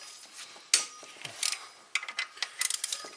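Bolts come out of a Toyota Prius camshaft carrier during a head gasket repair, heard as quiet, close metallic clicks and ratcheting ticks in irregular short bursts.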